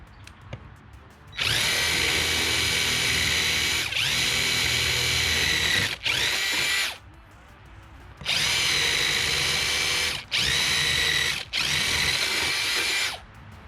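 A power drill screws bolts into a pressure washer detail station, whining loudly in long sustained runs with short pauses between them, close and alone.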